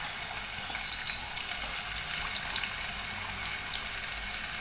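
Chopped onions frying in a small amount of oil while making chicken liver, giving a steady, moderately loud hiss and crackle throughout with one brief sharper pop, no talking.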